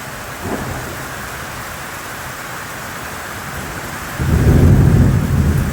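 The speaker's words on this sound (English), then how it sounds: "Being that the thunder and lightning is quite loud." Thunder rumbles through steady heavy rain during a downpour in Puerto Rico, with a deep roll building loud near the end over the constant hiss of falling water.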